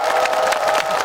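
Festival crowd at an outdoor concert claps and cheers in a loud, dense burst, with a sustained tone ringing through the noise.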